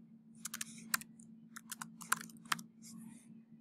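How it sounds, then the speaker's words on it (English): Quick, uneven keystrokes on a computer keyboard as a name is typed in, close and fairly quiet, with a steady low hum underneath. "Just click one time and type in your name."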